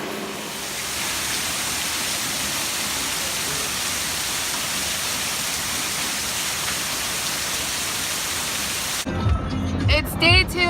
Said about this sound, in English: It's day 2 in Florida and it is pouring rain